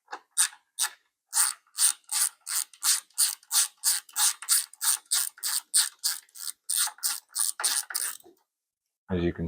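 A ratchet working a long bolt off a BMW R1300GS pannier frame from the touring pack, a close series of rapid clicking bursts in an even rhythm that stops near the end, followed by a brief low sound.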